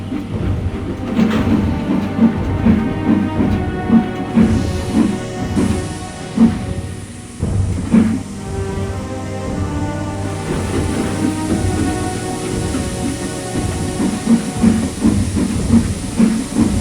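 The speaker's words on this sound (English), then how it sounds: "That sounds like an engine, he thought." Railway steam engine at a station at night, heard as a rumbling, hissing chuff with rhythmic beats and clanks, fairly loud and steady throughout, with no one speaking.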